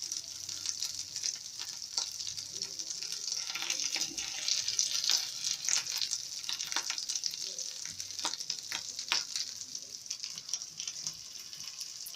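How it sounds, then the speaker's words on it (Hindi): Potato kebabs frying in oil, golden on both sides, give a soft, continuous sizzle with crackling pops that holds steady at low volume throughout. "ये देखिए हमारे अच्छे से कबाब गोल्डन फ्राई हो चुके हैं दोनों तरफ से।"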